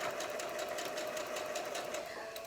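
A sewing machine runs steadily, stitching half square triangle quilt pieces for a Halloween quilt block, with a continuous close whir and rapid even needle pulses throughout.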